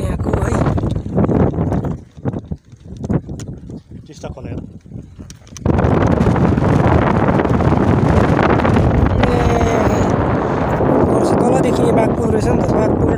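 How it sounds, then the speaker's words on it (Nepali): Strong wind gusts across an open high hilltop viewpoint overlooking the Teesta river, buffeting the microphone in uneven bursts at first, then settling into a loud, constant roar, with people talking under it. "यहाँ चाहिँ हावा चल्दो रहेछ नि त धेरै नै हाइट पनि त धेरै नै रहेछ"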